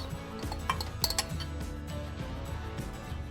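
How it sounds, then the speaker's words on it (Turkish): Metal spoon stirring yogurt with garlic, salt and olive oil in a bowl, giving repeated light clinks and scrapes against the dish, with a few sharper taps around the middle. "tuz ve biraz zeytinyağı ve yoğurdumu karıştırıyorum"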